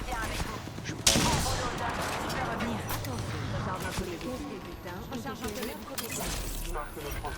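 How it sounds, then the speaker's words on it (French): Gunfire in a first-person shooter match: a dense, continuous stream of weapon shots and impacts with a sharp burst near the start, layered under excited French voice chat from players. "On me tire dessus."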